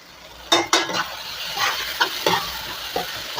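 Garlic goes into tomatoes sautéing in a pan, giving a low sizzle broken by a few sharp spoon scrapes and clinks against the pan, with no talking.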